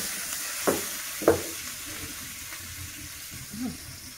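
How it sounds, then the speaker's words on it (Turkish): Peppers sizzling and frying in a pan, a steady quiet crackle with a couple of sharper clinks or scrapes near the start. "çok yakmadan biberlerimizi de kızarttık"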